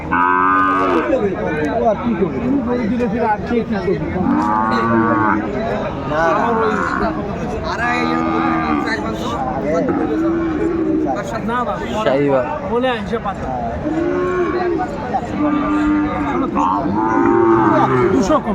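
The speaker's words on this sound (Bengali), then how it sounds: "এই গরুগুলো যদি কেউ নিতে চায়" Cattle at a livestock market, including Sahiwal breed bull calves, moo loudly and repeatedly over a constant hubbub of crowd chatter, with several long, close calls spread across the scene.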